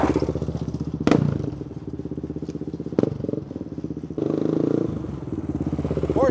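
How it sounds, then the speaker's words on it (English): A 400 four-stroke motorcycle engine idling and revving, a steady lumpy thumping pulse with a couple of sharp clattering blips, close and loud throughout. "See, the thing about a 400 four stroke, it's got lots of torque right off idle."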